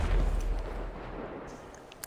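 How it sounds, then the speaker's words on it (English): An explosion in a GTA V street race video game hits as a heavy, low boom that rolls and slowly fades over about two seconds, with no talk over it. "And I just heard an explosion."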